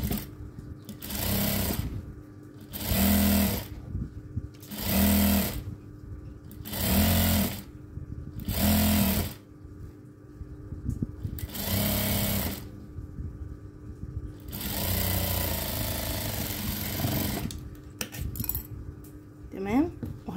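A sewing machine stitching a fabric gift bag runs in short, loud bursts of rapid mechanical whirring, separated by pauses, with a longer run near the end.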